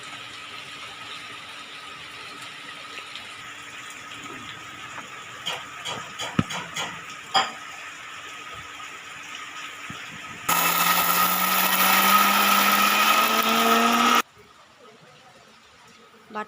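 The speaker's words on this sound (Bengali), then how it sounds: "মিক্সার গ্রাইন্ডারে ডালটা দিয়ে দিচ্ছি" Mixer grinder grinding soaked lentils with banana flower, a loud whirring roar that starts abruptly after quieter kitchen clinks, rises slightly in pitch for about four seconds, then cuts off.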